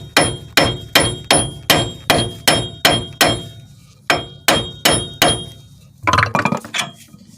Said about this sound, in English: I just use a hammer and just give the sides a few little taps.